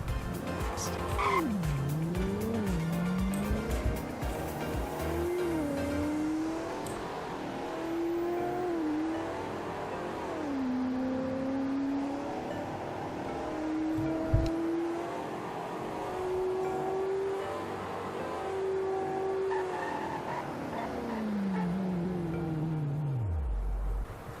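Game engine sound of an ambulance in Roblox Greenville accelerating steadily from a standstill up to 100, the tone climbing in stages before falling away as it brakes hard to a stop, loud and continuous with no talking.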